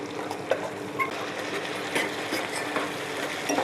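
Boiled chana dal being fried and stirred with onions in a pan for a coconut chana dal curry, giving a steady soft sizzle with scraping stir clicks and a few brief spoon knocks, no talk.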